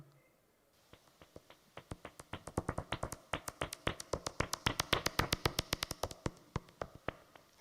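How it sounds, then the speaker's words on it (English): Serotine bat echolocation calls, rendered as a series of sharp, irregularly spaced clicks like uneven hand clapping, starting sparse, then quickening into a dense, louder run before tapering off. "the Seritin bat, and its echolocation calls have been described as like irregular hand clapping"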